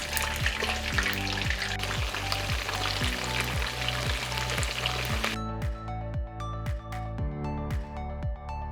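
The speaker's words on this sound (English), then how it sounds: "Now that the oil is properly preheated, put its skin down first and flip only once." Salmon laid skin-side down in preheated oil sizzles loudly and steadily under rhythmic background music for about five seconds, then the sizzle drops away and only the music continues.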